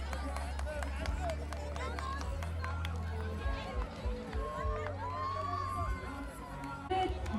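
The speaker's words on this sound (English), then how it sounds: "Parents, please keep cheering for them" Parents at a school sports day race cheering and clapping as a steady crowd roar, with children shouting and an announcer talking over a microphone throughout.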